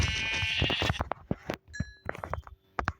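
Sheep bleating in a video game, a loud wavering bleat up front followed by clinks and short bursts of game sounds, close and clear.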